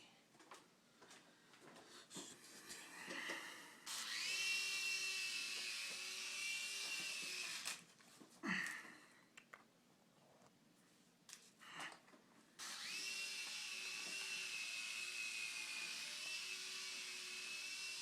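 A 2006 Air Hogs Havoc Heli toy helicopter whines with a high electric motor and buzzing rotors, loud in close bursts that fade and return as it flies around a room, with brief gaps and a knock.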